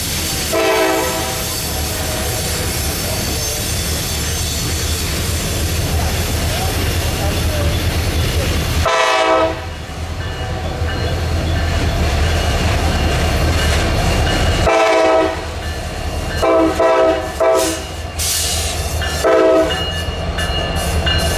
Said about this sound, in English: And as you would expect, this train also had ACU helpers at the end